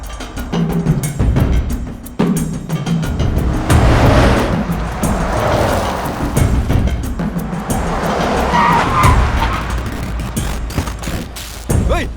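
A car brakes hard with loud screeching, skidding tires, a sustained squeal rising over engine noise near the listener, with no talk over it.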